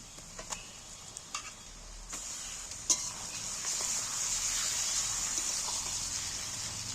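Chicken pieces frying in a pan over softened onions, giving a steady close sizzle with a few sharp taps and stirring clicks early on, then a denser hiss that holds evenly to the end.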